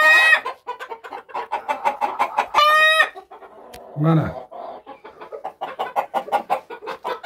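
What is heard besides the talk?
Spanish white-faced hens clucking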